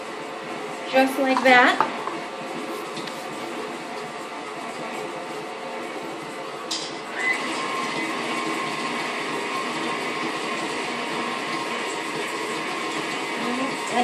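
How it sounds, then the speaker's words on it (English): An electric mixer creaming butter and sugars for summer squash banana bread, running as a steady whirring drone throughout, with a brief rattle near the start and a short spoken remark over it. "And now I'm going to cream together the butter and the sugars."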